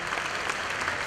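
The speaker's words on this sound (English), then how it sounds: "Let's give Troy and Angie a nice round of applause from Cal Tire." Applause from guests at a charity lobster dinner and auction, a dense wash of clapping heard only in a very brief snippet.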